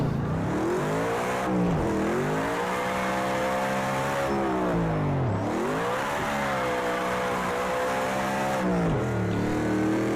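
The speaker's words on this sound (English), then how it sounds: "I need to come in on the handbrake and then just handbrake it all the way down" Drift car in Project CARS 2 running a ProComp drift mod, engine revving up and down in long sweeps as the handbrake is pulled through corners, loud and steady with no talk.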